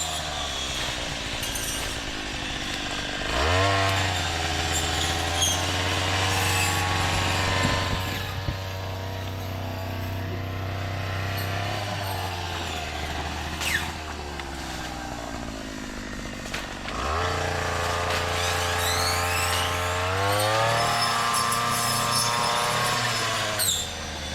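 A chainsaw cuts along a boundary fence line, revving up loud and close in two long bursts with a lower idle between them.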